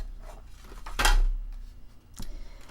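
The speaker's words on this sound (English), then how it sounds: "And I'm just going to cut it with my scissors." A single sharp snip of scissors through paper, close by, followed by a softer second cut and faint handling noise.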